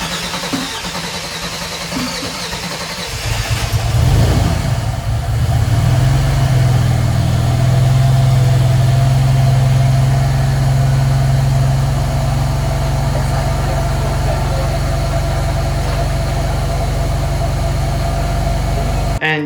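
An engine-swapped Mercedes W203 fires up for the first time after a few seconds of quiet, revs briefly, then settles into a steady, close, loud idle with no talking.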